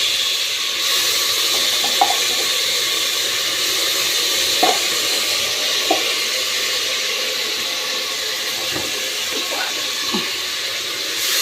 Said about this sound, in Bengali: পেঁয়াজ বাটা দিয়ে দিলাম